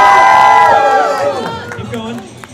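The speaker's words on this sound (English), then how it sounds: "One more big cheer for Gray and Sonic Toast." Loud crowd cheering and shouting fills a live Fan X convention game event in Salt Lake City, a sustained roar that gradually fades.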